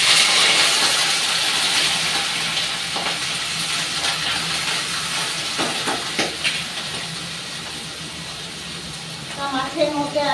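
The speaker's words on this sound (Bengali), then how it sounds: "এবার মাছগুলো ভেজে নেব।" Fish seasoned with turmeric and salt sizzle in hot oil, a steady bright hiss that gradually eases, with a few clinks and crackles near the end.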